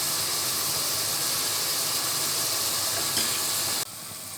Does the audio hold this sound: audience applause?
no